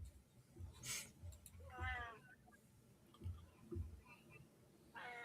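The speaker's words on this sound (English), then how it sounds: "Sounds like a cat." A cat meows several times, faint and somewhat distant, over low background murmur and room noise. The cries come in short separate calls.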